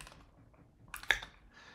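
An equation is typed into a LaTeX document on a computer keyboard, a short burst of quiet, close key taps clustered together with a brief pause before them.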